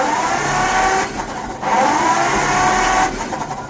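A 1951 Ford F1 truck engine cranks over with the ignition on and a spark plug grounded, giving a loud, steady whirring churn broken by short pauses.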